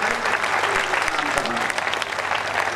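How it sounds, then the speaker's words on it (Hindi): Dense, loud applause from the audience at a Hindi kavi sammelan of veer ras poetry, steady crowd clapping with a few sharper claps and thumps. "विशुद्ध कविता पर इतनी तालियां"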